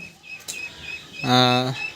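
A male pigeon at a loft gives a short, close coo, a single brief tonal call rising out of quiet background after a faint earlier rustle.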